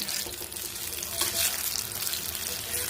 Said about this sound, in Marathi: तेलामध्ये सोडून देऊ तळायला आपण आता अशी पूर्ण अशी भजी तळून घेऊ